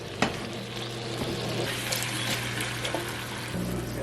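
Two cans of diced tomatoes with green chilies poured into a pot of cooking taco-seasoned ground beef, a wet sloshing plop over a continuous low sizzle, with a few soft clunks.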